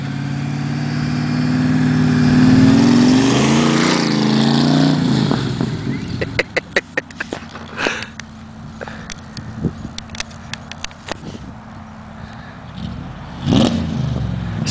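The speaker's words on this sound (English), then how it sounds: "Nothing like the sound of headers and big exhaust" A Factory Five go-kart with a 302 V8, headers and a big exhaust revs loudly and roughly up close for about six seconds, then settles into a choppy idle broken by sharp pops and short blips.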